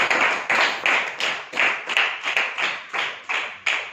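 A congregation claps hands together in worship, steady rhythmic claps roughly every half second, loud and close, with no voices over them.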